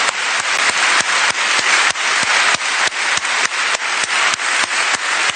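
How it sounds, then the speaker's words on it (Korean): A congregation at a church service claps together in a steady, regular rhythm of sharp, evenly spaced beats, loud and unified throughout. "이 영광스러운 구원을 주신 하나님께 우리 다 같이 박수를"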